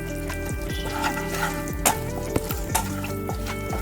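Whole garam masala spices (cardamom, cloves and cinnamon) and sugar frying in hot oil, a steady close sizzle with faint stirring clinks running through it.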